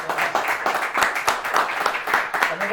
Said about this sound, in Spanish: Un aplauso grande para Alberto Mayor.